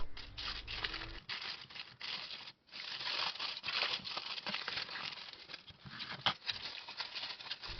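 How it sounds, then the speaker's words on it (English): A sheet of paper laid over the top of a box is folded down over its edges, giving close, quiet crinkling and soft rustling in short bursts with a brief pause partway. "I'm going to lay it on top of my box and just fold over the edges"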